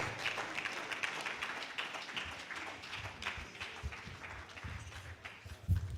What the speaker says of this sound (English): Please put your hands together for Mr. Samtayo Olanipeku. Please keep clapping till we get here.